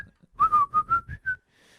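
Someone whistles a short tune nearby, six distinct notes in quick succession, clear and close with nothing else around.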